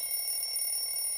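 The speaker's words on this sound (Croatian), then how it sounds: "to je zvuk mog budilnika." An alarm clock rings in a cartoon scene, a steady high electronic ringing that holds evenly for about a second with no voices over it.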